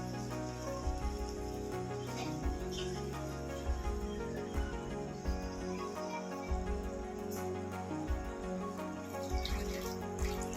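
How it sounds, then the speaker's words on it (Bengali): Water poured into a pan of hot frying oil while cooking a Bengali fish curry with pomfret: a loud, continuous sizzling hiss and bubbling with intermittent splashes and spits, steady for the whole stretch with no talking. "জল দিয়ে দিয়েছি"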